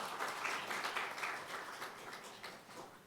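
Audience applause after a presentation at a briefing on product environmental footprint support for international carbon rules, a dense wash of clapping that swells early and gradually thins out, with no speech over it.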